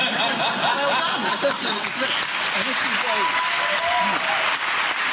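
Studio audience on a nationally broadcast British panel comedy show cheering and applauding, a dense, steady wash of clapping with scattered whoops and laughter throughout, loud and close.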